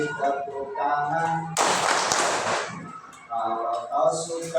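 Children in a first-grade class clap their hands together along to a sung song, a short burst of quick group clapping in the middle, with singing voices before and after.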